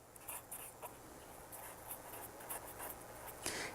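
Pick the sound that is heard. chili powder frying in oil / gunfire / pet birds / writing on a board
writing on a board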